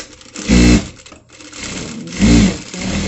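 Sewing machine stitching the side seam of a shift dress: two short bursts of rapid mechanical whirring separated by quieter pauses, close and loud with no talking.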